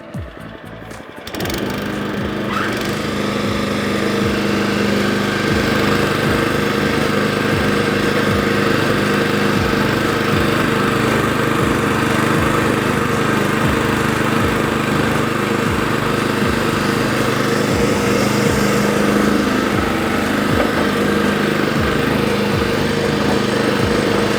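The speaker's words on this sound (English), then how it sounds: "I'm just gonna demonstrate how this machine will mow and climb up that hill" A California Trimmer Catalyst reel mower runs loud and close with a steady, continuous engine drone and whirring reel while mowing up a steep hill, starting after a brief moment of handling noise.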